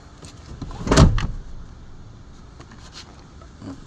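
A door of a 2022 Toyota Innova E slams shut once, a sharp close thud with a short follow-up knock, then quiet outdoor ambience with a faint later click.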